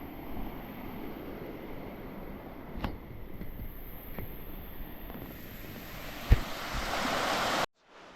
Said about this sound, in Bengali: ঝর্ণা ঘুরতে ঘুরতে ঝর্ণার একেবারে নিচে চলে এসেছি